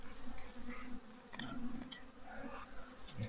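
Honeybees buzzing around an opened beehive, a dense, continuous, wavering drone with individual bees passing close by, fairly faint and with no talking.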